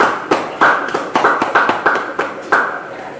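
A church congregation claps in unison during a Bible study service, about a dozen sharp, evenly spaced hand claps in a quick steady rhythm, close and fairly loud.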